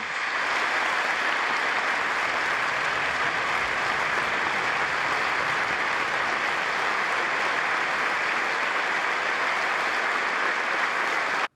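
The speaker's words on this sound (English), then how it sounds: "the people that you see clapping right there that are standing are all family members of hostages or people who were hostages themselves" A standing audience of hostages' family members and former hostages claps in steady, dense, sustained applause that fills the whole stretch without pause or voices.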